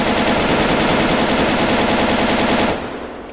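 An AUG rifle in Arma 3 fires loud, rapid automatic gunfire as one unbroken burst that cuts off abruptly near the end, leaving a fading echo.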